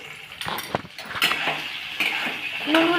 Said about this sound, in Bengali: দেওয়ার পর ভালোভাবে মিশিয়ে নেওয়া হচ্ছে